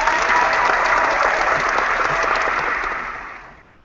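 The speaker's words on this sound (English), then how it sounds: "Round of applause, Mr. Shawn Halpin." A comedy podcast audience at the Arlington Improv applauds a comedian guest, a loud, dense burst of clapping from a close crowd that holds steady, then fades away over the last second.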